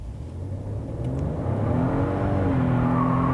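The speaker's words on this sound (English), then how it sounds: "Now I'm going to turn off the traction control here just so we can get some wheel spin." A 2018 Ford F-150 Lariat pickup with the 2.7 EcoBoost, bed unloaded and traction control off, spins its rear tires, the engine revving up with a rising whir and tire squeal, loud and close.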